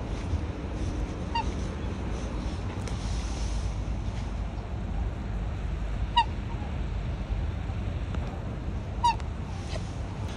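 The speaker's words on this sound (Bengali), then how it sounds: "তাই দেখতে পাচ্ছ তোমরা দুটো হাঁস, এটা রাজহাঁস বোধহয়" Geese at a pond give a few distinct honks, spaced well apart and moderately loud, over a steady outdoor background hum with no talk.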